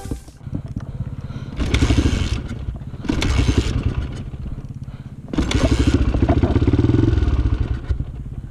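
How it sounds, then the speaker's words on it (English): A motorcycle engine on an off-road exploring ride, running again after the fuel was switched to reserve, revs loud and close in several rising bursts over a steady idle. "My bike runs now after we switch it to reserve"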